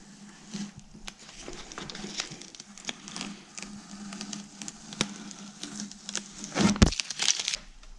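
Rubber Plasti Dip coating being peeled off a car badge, giving soft crinkling and crackling rips close by, steady through with a louder tearing burst near the end.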